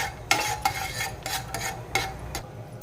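Cashews and almonds fry in ghee in a pan while a spoon stirs them, giving a soft, steady sizzle broken by rhythmic scraping strokes against the metal.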